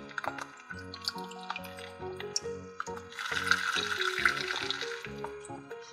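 Water rinsing over a small plastic toy doll during bath play, with soft trickling and dripping that swells into a fuller splashing pour midway, heard under a light background tone.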